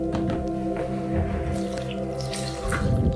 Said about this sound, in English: Mixing with some warm water